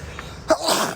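A single short, sharp sneeze from a man, close and clear, preceded by a faint breath in a quiet room.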